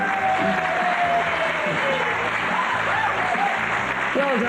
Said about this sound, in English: A big round of applause for Del Boy Diamond.